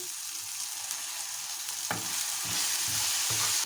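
A spoon stirs sauce ingredients, including dry coriander, in a hot frying pan, giving a continuous sizzle broken by several scraping, clattering strokes in the second half, close up and with no speech.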